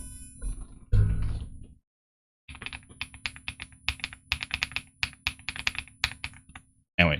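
Clicks from a computer keyboard spacebar, a quick run of sharp, close taps after a short pause, with brief talking at the start.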